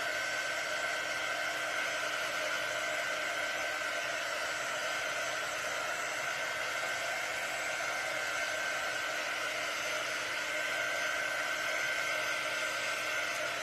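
Hair dryer blowing hot air steadily to dry a pumpkin craft project, a loud, continuous whooshing roar that stays even and unbroken the whole time, close to the listener with no talk over it.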